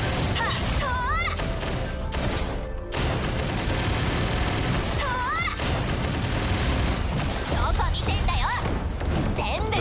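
Firecracker bursts in the Punishing: Gray Raven video game, with loud crackling blasts and impacts over a continuous dense game mix, with a voice speaking in between.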